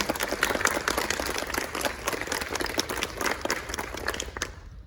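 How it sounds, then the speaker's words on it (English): Guests at a wedding ceremony clap for the mothers in a lively, uneven round of applause that fades out at the very end. "Come on, round of applause for the mothers."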